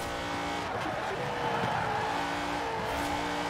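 A race car in Forza Horizon 4 roars at close range through a high-speed overtake, with tires squealing and skidding under the steady engine drone.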